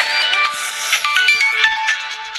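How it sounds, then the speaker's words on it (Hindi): A mobile phone ringtone plays loud and close, a continuous bright electronic melody with repeating notes running without a break and no talk over it. "आई तो फोनवा हो।"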